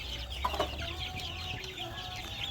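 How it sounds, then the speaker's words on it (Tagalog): Fairly large chicks and game fowl cluck in a pen on a small farm. The soft calls come close together at a moderate distance over a low background hum, and no one speaks. "Ito mga sisiyo medyo malalaki na."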